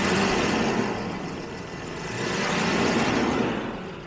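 A 1977 Jaguar XJ12's V12 engine idles with a smooth, steady rumble, heard close and alone, its loudness swelling gently once midway.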